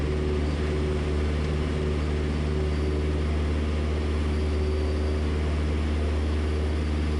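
A 200 mph aerobatic propeller airplane roars loudly and steadily from inside the cockpit as it lifts off a short runway and climbs, a constant deep engine and propeller drone with no talk.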